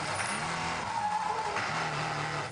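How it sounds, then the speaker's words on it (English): From inside the number 1 Audi endurance race car during a 2013 FIA WEC six-hour race at Circuit of the Americas, loud tyre and engine noise roars steadily as the car spins after its rear end locks up. "That's what a spinning Audi sounds like from the inside."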